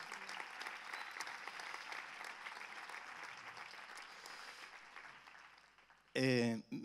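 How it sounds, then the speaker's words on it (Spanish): A church congregation gives a sustained round of applause that slowly softens, then a voice cuts in loudly near the end. "Sea ese aplauso para Dios"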